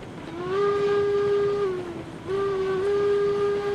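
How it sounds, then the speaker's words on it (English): Steam locomotive whistle of engine 48 in the railroad game RailRoads Online: two sustained, fairly thin toots, the first about a second and a half, a short dip, then a second long blast, over a low rumbling background. "we need more volume and more oomph on the 48's whistle"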